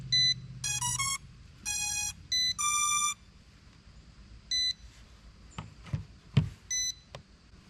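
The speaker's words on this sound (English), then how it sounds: "you know it's synced when this stops beeping and the green light on the bottom stays steady" A RUKO 4K mini drone and its controller emit a series of short electronic beeps and chirps while syncing, irregularly spaced and fairly close, with a few soft clicks and handling knocks in between.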